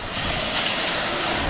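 Jogini waterfall near Manali rushes and sprays in a loud, constant broadband roar of falling water, heard close with no speech.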